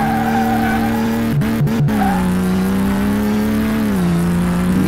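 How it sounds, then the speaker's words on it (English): A Porsche 911 Turbo engine in Car Mechanic Simulator holds a loud, steady high rev near its limit, with a few brief cuts that sound like limiter stutter before it settles into a sustained drone. "Rev limit that baby."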